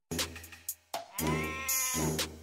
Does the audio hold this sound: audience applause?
no